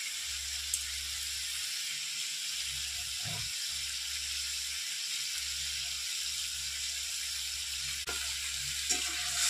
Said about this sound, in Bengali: মশলাটা এবার ভালো করে ভেজে নেব।